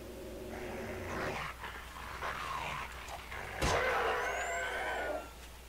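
A dog growls in the zombie survival game 7 Days to Die, a rough, snarling rumble in uneven bursts with a sharp thud partway through, no talk heard.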